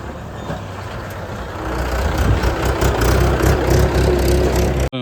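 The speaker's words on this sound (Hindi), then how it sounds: "ये देखो ये ट्रैक्टर आ गया।" A tractor engine passes on a road near Rishikesh, a steady loud rumble that swells and holds through the middle of the pass, with no talk over it.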